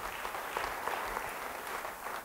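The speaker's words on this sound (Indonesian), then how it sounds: "beri tepuk tangan bagi dia" A church congregation applauding during a sermon, steady dense clapping from many hands in a large room, moderately distant and even throughout.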